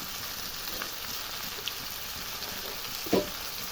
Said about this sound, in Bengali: তারপরে ভালো করে ভেজে নেব সবজিটাকে